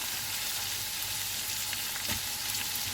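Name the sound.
leek frying with golden onions in a pan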